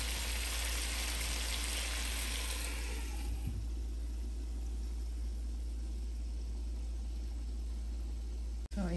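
Honey gin garlic chicken drumsticks fry in a covered pan, making a steady sizzling hiss that is bright and loud at first, then settles into a softer, muffled crackle under a low hum.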